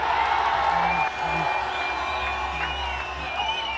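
A large football crowd roars and cheers after a penalty goal at a Nepal vs Bhutan U-20 SAFF Championship semi-final, a loud sustained wall of noise with whistles and shouts rising from the stands.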